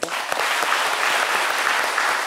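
Audience applause at a talk about the working conditions of women street sweepers in Côte d'Ivoire, a dense sustained clapping from a crowd that starts abruptly and holds steady throughout.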